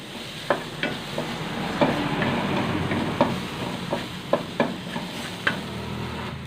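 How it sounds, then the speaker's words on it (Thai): Ginger tossed with garlic and eggplant in a hot pan for lotus-stem stir-fry, a steady sizzle broken by sharp, repeated scrapes and knocks of the spatula, close and fairly loud with no talk. "แล้วก็ขิงลงในถาดเลยเนาะ ผัดหอม"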